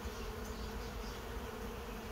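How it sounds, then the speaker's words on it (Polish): Honeybees return to the hive from foraging, a steady close buzzing drone of many insects with no talk. "A spójrzcie, ile pszczół wraca teraz z pożytku."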